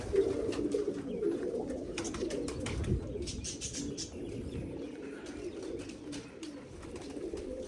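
Pigeons coo in low, repeated throaty calls, with small birds chirping sharply above them at moderate distance.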